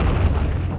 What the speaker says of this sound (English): the artillery pounded the line with rockets and shells